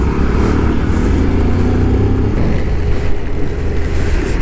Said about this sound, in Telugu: ఈ వానలో తడుచుకుంటా బైక్ రైడ్ చేస్తూ ఉన్నాను